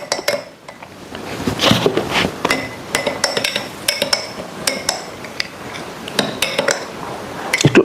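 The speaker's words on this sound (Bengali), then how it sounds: "ভালো করে আপনাকে দুধের সাথে মিক্স করতে হবে" A spoon stirs maca powder into warm milk in a glass, giving rapid bright clinks and taps against the glass in uneven bursts, close and fairly loud, with no voices.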